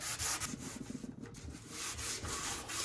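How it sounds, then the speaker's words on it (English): Sandpaper scuffs back and forth over the painted surface of a 1958 Thunderbird steel oil pan, a close, quiet series of rapid rubbing strokes with a brief pause midway. "So I'm sanding it, scuffing it up a little bit."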